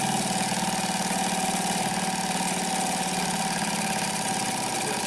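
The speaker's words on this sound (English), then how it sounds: "we're going to be sewing along using our reverse" A Consew P1206RB upholstery sewing machine stitching two pieces of thick leather in reverse, giving a steady, close, mechanical motor hum with a fast even rhythm that runs unbroken and alone.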